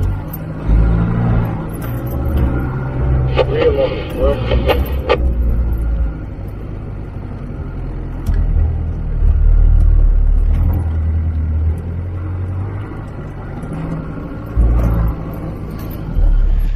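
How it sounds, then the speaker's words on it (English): A 4x4 off-road vehicle on a rocky track rumbles through its muffler, the engine rising in several loud revving surges over a low idle, heard up close. "Need to hear some muffler noise"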